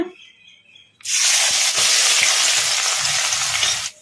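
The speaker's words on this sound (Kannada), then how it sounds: "ಈಗ ಇದಕ್ಕೆ ಸಣ್ಣದಾಗಿ ಕಟ್ ಮಾಡಿ ಇಟ್ಕೊಂಡಿದ್ವಲ್ಲ ಉಳ್ಳಾಗಡ್ಡಿ, ಈಗ ಇದನ್ನು ಹಾಕೋಣ." Chopped onions drop into hot oil in a kadai, setting off a sudden loud, steady sizzle that holds close and bright for several seconds with light stirring clicks underneath.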